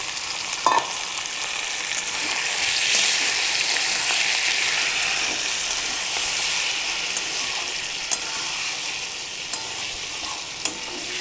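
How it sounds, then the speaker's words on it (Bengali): Marinated chicken frying in hot oil for a chicken curry, a loud, steady, dense sizzle with continuous crackle and occasional pops, close and without talk. "এবার ম্যারিনেট করা চিকেনটা আমি দিয়ে দিলাম।"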